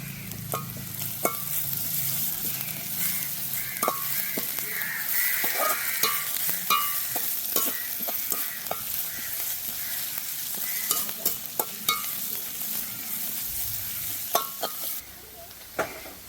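Curry leaves sautéing in a pan for a village-style Sri Lankan prawn curry, a steady sizzle with intermittent stirring scrapes and clicks, close and moderately loud, with no talking.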